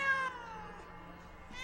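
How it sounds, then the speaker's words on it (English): A cat meows in a single drawn-out, falling cry at close range, alone with no talking, its pitch sliding down before a faint second rise at the end. "There's a cat eating its food."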